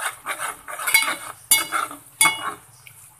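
Metal spoon scraping and clinking against a cooking pot while ground cumin and garam masala are mixed for a dhaba-style chana dal, several close, distinct strokes with no talking.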